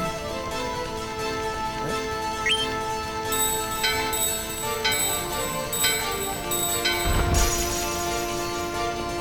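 A bell chimes in the Final Fantasy IX game during the Gizamaluke grotto section, ringing out over steady game music with sustained tones and a few bright struck notes.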